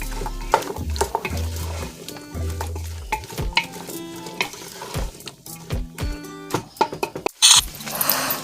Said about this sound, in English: I'm just going to saute them for a few minutes in that oil.